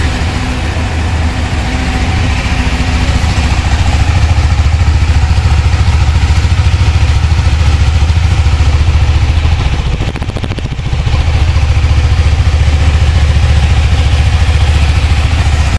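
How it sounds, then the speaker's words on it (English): A KTM 390 Adventure motorcycle's exhaust runs at a steady, loud idle up close, with a deep thrumming low end and mechanical clatter, dipping briefly before resuming the same rumble. "Exhaust note kaise laga? Not too impressive, right?"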